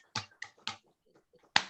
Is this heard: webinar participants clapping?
yes